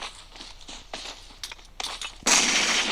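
Bomb blast in a Turkish-played multiplayer shooter video game, a sudden loud burst near the end after scattered clicks and light in-game impacts.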